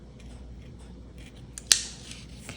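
Scissors cut through card paper for handmade greeting cards, with a single sharp snip over a quiet room background and a brief rustle afterward.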